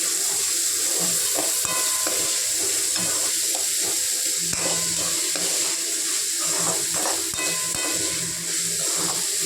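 Half a kilo of onions frying in oil for a chana chicken masala gravy, a steady loud sizzle and hiss with repeated scraping stirs of the spoon in the pan throughout, with no talking.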